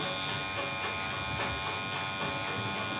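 Electric hair clippers buzz steadily and close up as they cut hair during a barber's haircut, with the clipper blade set about halfway open, humming continuously for a few seconds.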